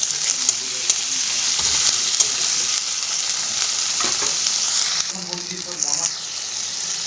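Ginger paste, chopped tomato and fried garlic sizzle steadily in hot oil in a pan, a continuous bright hiss with occasional stirring scrapes and brief muffled voices in the background.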